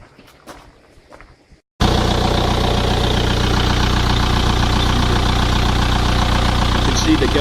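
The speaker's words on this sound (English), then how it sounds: "So I'm just going to start the engine up," A truck engine fitted with an HHO hydrogen generator starts after a short quiet stretch and settles into a steady, loud idle with a constant low rumble and a faint clattering knock, running on its own to the end.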